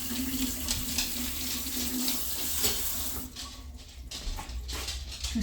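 A kitchen tap runs warm water in a steady rushing stream, loud and close for about three seconds, then cuts off, leaving faint splashes and drips in the sink.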